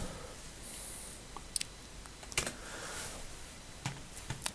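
A handful of faint, scattered keystrokes on a computer keyboard while a command is typed in AutoCAD, soft isolated clicks over a low background hiss.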